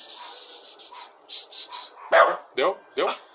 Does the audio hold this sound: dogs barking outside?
yes